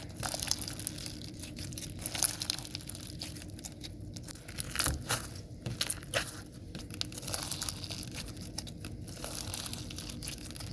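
Sticky slime mixed with glass beads and sand is squished and pushed around by hand, giving a steady stream of close crinkling, crunching and clicking textures with no talking.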